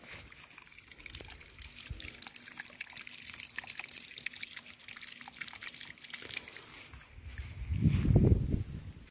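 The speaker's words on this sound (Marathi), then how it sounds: "असं इथनं इथं गळते पाणी असं" A thin, continuous trickle of water dribbles steadily from a leaking pipe, with small splashy ticks, ending in a louder low rumble near the close.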